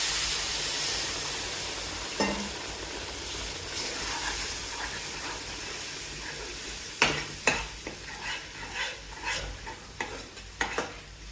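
Sugar syrup being stirred into moong dal flour roasted in ghee for moong dal halwa, giving a steady hissing sizzle with scraping stir strokes and soft clinks that grow more frequent later.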